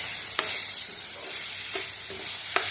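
Chopped tomatoes are stirred into frying masala in a pan, producing a constant close hiss of sizzling with a few light spoon taps at intervals.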